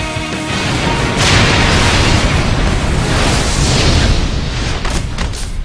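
A big explosion in a Sonic the Hedgehog video game cutscene roars loud and close, a sustained rumbling blast that swells after a brief lead-in and tails off with a few sharper crackles near the end.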